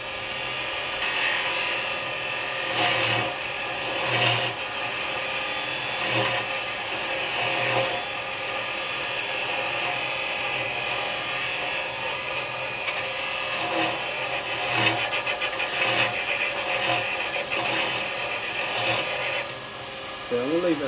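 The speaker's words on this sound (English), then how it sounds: "I want to be able to do a planing cut, get it nice and smooth" Carbide chisel taking a planing cut on a small wooden toy car spinning on a woodturning lathe, a steady close scraping hiss with brief louder swells as the tool bears in, running continuously throughout.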